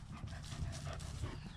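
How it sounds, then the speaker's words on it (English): A dog pants quickly and close by in a short, continuous burst of rapid breaths near horses, with no talk. "What a good dog"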